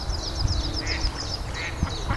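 Female mallard duck with her ducklings in vegetation, giving several soft, close quacks in a loose irregular series over low background noise.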